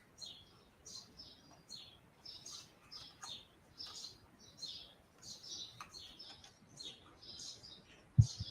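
Birds chirping outdoors, repeated short high tweets in quick bursts at a moderate distance, fairly faint and steady, with a soft thump near the end.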